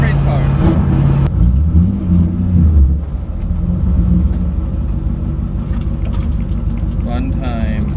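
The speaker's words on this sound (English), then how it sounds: "Because the exhaust exits on the side every time somebody goes by, you can hear it extra." A 1UZ V8-swapped Nissan S13 drift car with side-exit exhaust rumbles and revs loudly nearby, the deep engine note swelling and fading over several seconds as it passes, with voices talking over it.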